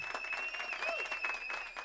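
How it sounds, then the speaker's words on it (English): Dense clapping from a stand-up comedy crowd fills a short burst, steady and full, with a thin whistle-like tone riding above the applause. "Yeah, you can clap, yeah."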